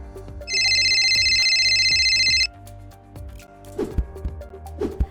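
A mobile phone rings for an incoming call with a loud, steady electronic ringtone that trills continuously for about two seconds, then stops. Soft music plays underneath.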